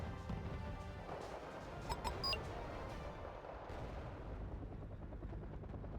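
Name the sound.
rocket fire in Arma 3 video game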